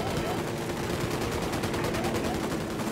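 Automatic gunfire in the Tom Clancy's Ghost Recon Wildlands open beta, a dense, continuous rattle of shots lasting the whole moment over a steady game background.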